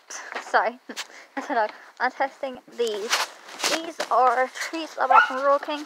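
A dog barks sharply a few times while a person keeps talking close by.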